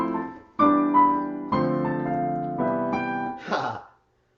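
A piano plays the opening of a song as a short series of sustained chords, five or six distinct strikes ringing clearly and fairly loud before fading out, with no voices.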